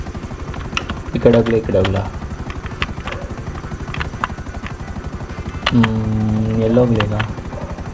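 A helicopter in GTA 5 gameplay keeps up a steady, loud rotor chop with a continuous rapid thudding pulse through the whole stretch, while someone talks over it in two bursts.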